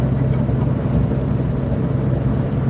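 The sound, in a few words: semi truck engine running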